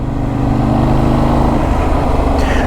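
A Benelli 752S parallel-twin motorcycle engine drones steadily and loudly while riding at about 30 mph, with a low throbbing hum that holds even and close throughout.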